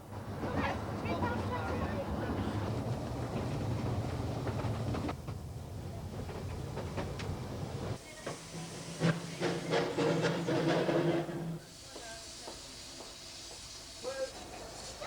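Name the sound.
steam train engine running, hissing steam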